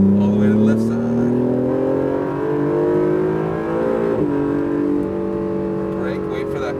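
An Acura NSX circling a race track at Las Vegas, its engine droning and rising through the gears with layered harmonic tones, loud and close from inside, while a Lamborghini passes and people talk over the noise.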